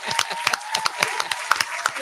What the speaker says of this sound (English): I'm going to clap for y'all.